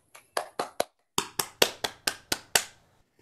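A handful of sharp, separate hand claps over a video call after a children's music recital, about ten distinct claps in an uneven rhythm, close and dry with near silence between them.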